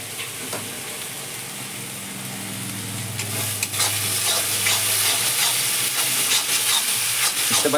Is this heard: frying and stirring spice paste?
yes